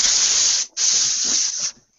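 Aerosol paint can spraying in two close, loud bursts, a long hiss, a brief break, then another hiss that cuts off sharply.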